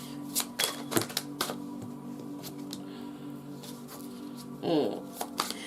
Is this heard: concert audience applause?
no